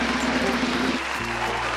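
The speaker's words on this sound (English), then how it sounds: "A big round of applause for 3 players and judge of Squid Game 2022." Audience applause for three players and a judge at a Squid Game-themed competition: steady, moderately loud clapping over a brief stretch, with a low tonal hum beneath it.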